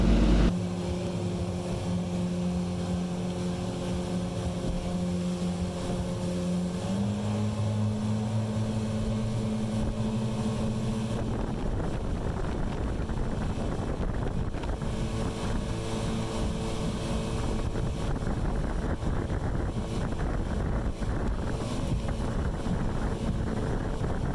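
A 2021 Yamaha AR195 jet boat accelerating slowly on open water, its engine drone shifting pitch as speed builds, with heavy wind buffeting and rushing water, no speech.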